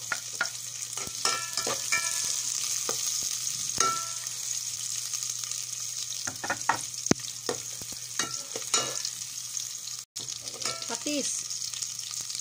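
Onions sizzle steadily in a hot pan as the first step of a salmon head sinigang, with a continuous frying hiss broken by repeated scraping stirs and a few brief clatters, no talking.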